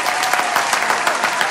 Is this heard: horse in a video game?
no